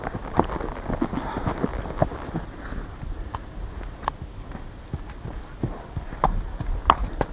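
Hooves clip-clop at a steady trotting pace on a hard surface, mid-distance, with faint outdoor background noise.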